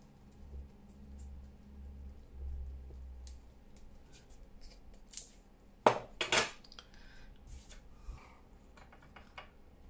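Scissors snipping around paper pieces for junk journal ephemera, with a few quiet sharp cuts clustered near the middle amid soft handling rustle, close and otherwise hushed.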